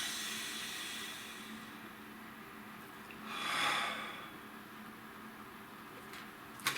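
One deep breath drawn in near the mic swells softly to a peak and fades against a quiet hiss, heard alone.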